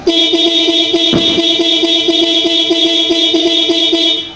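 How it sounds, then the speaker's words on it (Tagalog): A Yamaha YTX125 motorcycle horn blares in a steady drone continuously for several seconds, close and loud, with a faint rhythmic ticking underneath. "Busina po tayo mga sir"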